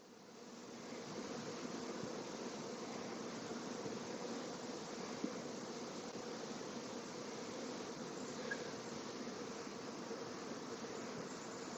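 A honeybee swarm on a high tree limb gives a steady, even buzzing hum that holds without break for the whole stretch, soft and somewhat distant, with no voices.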